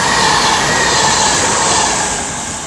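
A Pendolino train passes on the West Coast Main Line at Marston Green, a loud, steady rushing roar of wheels and carriages close by that holds throughout and eases slightly at the end.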